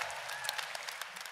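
Conference audience at the FiLiA 2022 closing session cheering and clapping, a dense continuous wash of applause with scattered sharp claps throughout, fairly loud and steady with no talk over it.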